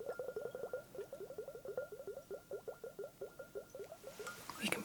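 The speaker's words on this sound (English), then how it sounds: "We've got a lot of bubbles here now." Liquid bubbling in a homemade ASMR contraption, a fast steady run of soft gurgling pops, close and quiet, growing busier at the end.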